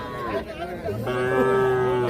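A young calf at a crowded cattle fair gives a drawn-out, rising moo lasting about a second, close and loud, with people talking and bargaining in the background.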